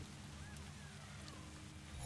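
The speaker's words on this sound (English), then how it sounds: "It's raining in the game" Steady rain in the game Kena: Bridge of Spirits, a soft continuous hiss of falling water with faint distant bird-like calls and a low ambient hum beneath.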